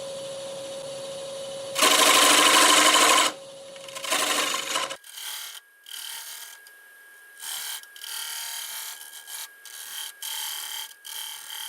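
A woodturning tool is sharpened in a workshop while a catalpa winged bowl is being turned. Two loud, harsh grinding bursts come first, followed by a string of quieter, intermittent scraping passes.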